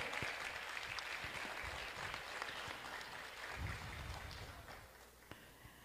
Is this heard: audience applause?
yes